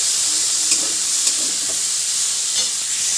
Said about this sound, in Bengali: ফুলকপির জন্য এখন মশলা বসানো চলছে পেঁয়াজটা ভেজে নিচ্ছি